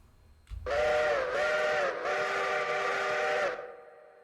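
Steam locomotive whistle of a C&W5 in the Railroader video game, a loud harmonic chime blown in three linked blasts—short, short, then long—over about three seconds before cutting off.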